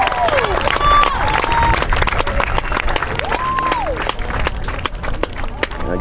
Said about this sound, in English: let's give a great round of applause for Grant Medina and his production studio